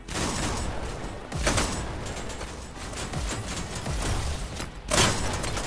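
Gunfire in the VR game Hyper Dash, a shotgun in the player's hands firing in a dense, continuous barrage with sharp louder blasts near the middle and end, all close and loud.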